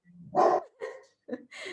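A black Labrador barking indoors during an online call: a few loud, close barks in quick succession, with a short whimpering tone between them.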